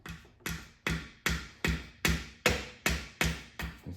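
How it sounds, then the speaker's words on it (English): Hammer taps on seized parts of a 2013 Ford Taurus SHO engine during teardown, landing in about nine sharp, evenly paced metallic knocks close by with no talk. "let me give them a little love tap with the hammer and see if we can free them"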